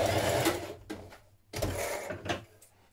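A sewing machine runs in short, uneven bursts to stitch pocket panels in place on a pullover dress, with clicks and handling noises between the runs.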